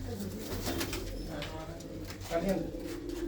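Pigeons coo in a loft with soft, repeated low calls that overlap someone talking, with a faint rustle and murmur of birds in the background.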